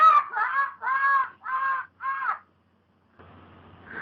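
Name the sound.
person imitating a screeching bird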